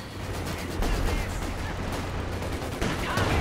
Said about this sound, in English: the light artillery barrage on this cluster of team weapons here